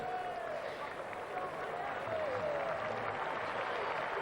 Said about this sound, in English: Just a little round of applause from his teammates.